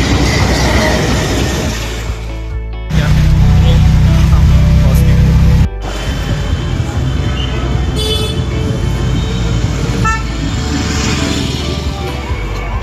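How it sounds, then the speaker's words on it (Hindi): A train pulls into a small railway station near Rishikesh, with a loud low rumble, a sustained horn blast in the middle and ongoing mechanical clatter, while people talk around the platform. "फाइनली आ गई है ट्रेन।"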